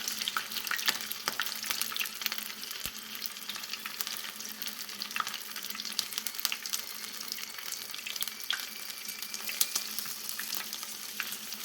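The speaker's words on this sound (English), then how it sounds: "we put in our hot oil" Coconut-flaked shrimp fry in hot oil, a steady dense sizzle with crackling pops that hold at an even, fairly quiet level throughout.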